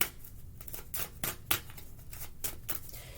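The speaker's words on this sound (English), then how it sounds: "As I'm shuffling" Tarot cards are shuffled by hand in a series of crisp, irregular riffles and slaps, close and distinct, with short pauses between bursts.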